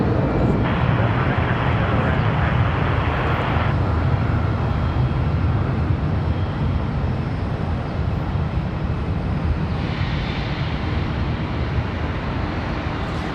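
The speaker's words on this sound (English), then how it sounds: "This is an ERJ 145, this one off to Huntsville." An Embraer ERJ 145 regional jet at Charlotte Douglas airport produces a continuous broadband engine roar at moderate distance, holding steady throughout with slight swells.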